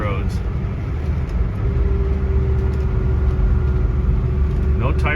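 A 1973 Ford Galaxie 500 with a 400 V8 cruising along a road, its engine giving a steady, loud rumble with constant road and wind noise throughout, no voices.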